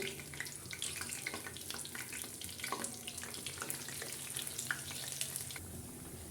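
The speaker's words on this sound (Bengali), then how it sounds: "তেলটা গরম হয়ে গেলে এক এক করে পেঁয়াজগুলো ছেড়ে দিব" Onion fritters dropped one by one into a pan of hot oil, crackling with a steady, fairly loud sizzle and scattered pops that run through the whole stretch with no talking.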